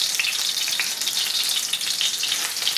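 A steady, bright sizzle of olive oil and butter frying in a hot pan, continuous crackle and hiss close by with no talking.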